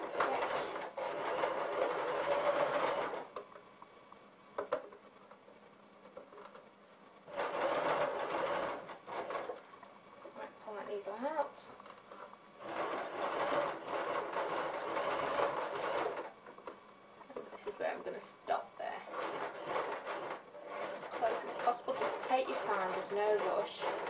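A sewing machine with a zipper foot stitches an invisible zipper in several long runs of close, fast mechanical whirring, separated by quieter pauses where a person talks.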